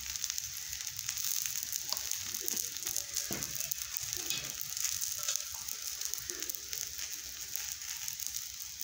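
Methi dhapate flatbread sizzling in oil on a hot tawa, a steady close crackle and hiss with occasional sharper pops, continuous throughout with no voices.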